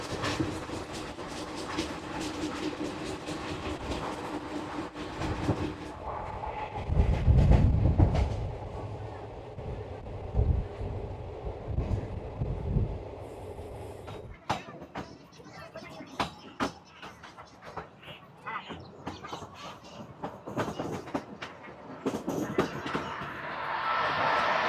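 Balurghat Express 13431 running through Malda on the way to New Farakka Junction, heard from a general coach as a steady rumbling roll with clattering wheel and carriage noise, a heavier low surge midway, and faint voices under it.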